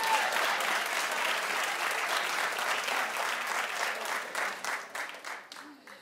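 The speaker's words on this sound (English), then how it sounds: "well, clap if you like that." A daytime talk show studio audience claps and cheers in a dense, sustained burst that thins out and fades near the end, with some crowd voices mixed in.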